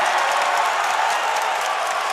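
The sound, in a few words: basketball arena crowd applauding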